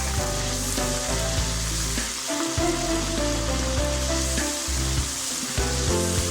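White cumin seeds frying in hot oil for chicken karahi, a dense, continuous sizzle with crackling pops and occasional stirring scrapes, close and steady throughout.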